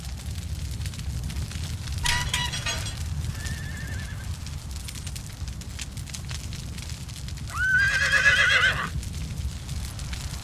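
A horse neighs inside a house in the video game Conan Exiles, two whinnies several seconds apart, the second louder and longer, over a steady crackling background.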